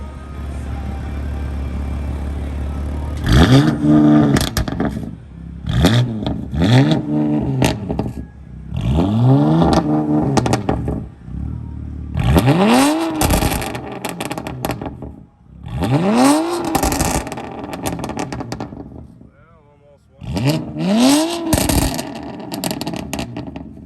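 A BMW F82 M4 fitted with an Active Autowerkes mid-pipe revs hard again and again, each loud rising blip falling back to idle in a steady series of pulls, with no speech over it.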